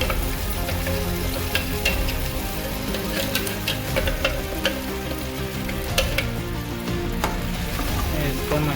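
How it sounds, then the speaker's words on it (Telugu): A tomato and cashew paste fries in oil for a mushroom curry, making a dense, loud, unbroken sizzle and spatter that fills the whole stretch, heard up close with occasional crackling pops and no talk. "మంచిగా పచ్చివాసన పోయేదాకా వేపుకోవాలి"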